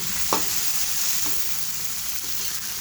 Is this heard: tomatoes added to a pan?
yes